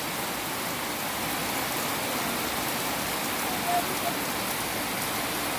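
Steady, dense rain pours down, a continuous hiss of drops hitting surfaces with no pauses.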